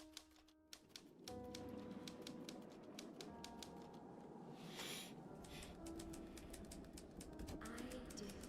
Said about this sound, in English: Typewriter instead of piano keys.